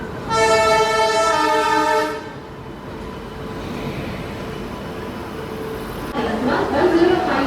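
A passing express train rumbles steadily, opening with a loud sustained horn blast, then rolling wheel noise continues before a brief louder burst near the end.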